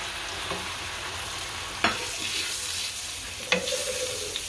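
Chopped onions fry alongside garlic for a Gujarati peanut bhajiya curry, a steady quiet sizzle broken by two sharp clatters of stirring in the pan.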